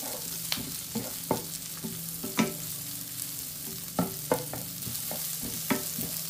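Plenty of onions are sautéed in a pan for pansit sotanghon with lechon, giving a low sizzle broken by repeated sharp clicks and scrapes of a spatula stirring, close up.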